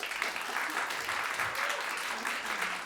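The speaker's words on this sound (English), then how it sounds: "I want you to clap a lot tonight." Audience clapping at a live concert introduction, a steady dense wash of applause from a crowd that holds evenly throughout with no pauses.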